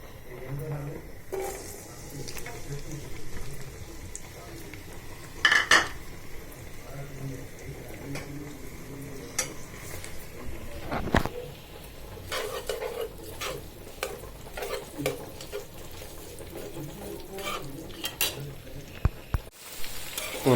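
Chopped onion, garlic and green chili hit hot oil in a wok, giving a low, steady sizzle with occasional stirring knocks and scrapes over about twenty seconds.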